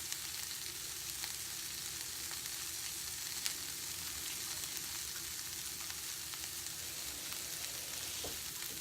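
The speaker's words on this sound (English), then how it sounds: "the carnitas are browning there, just a little bit" Carnitas brown in a dry pan with no added fat, giving a steady close sizzle and fry crackle with occasional sharper pops, continuous throughout and free of speech.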